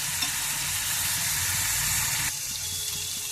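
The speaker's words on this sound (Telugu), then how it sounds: "చూడండి, ఆయిల్ బయటకు వచ్చి ఇలా వేగింది కదా మసాలా" Masala paste with green chillies sizzles in hot oil for a drumstick curry, a loud steady frying hiss close to the pan that drops slightly near the end.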